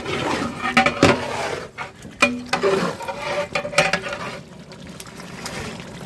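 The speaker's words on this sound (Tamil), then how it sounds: "இப்போ நம்ம வந்து உலைக்கு தண்ணி ஊற்ற போகிறோம்." Water pours and splashes into a large cooking pot for bulk chicken biryani, with clanking and sloshing in uneven bursts close by.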